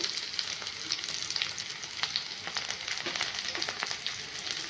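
Chopped raw green chillies fry in a pan for a chicken roll. A steady close-up sizzle is broken by frequent sharp crackles and pops.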